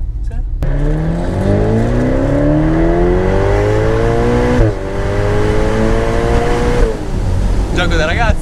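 A Ferrari engine revs hard through several rising gear pulls, each climb breaking off at a shift before building again, loud and close inside the car, with voices talking over it.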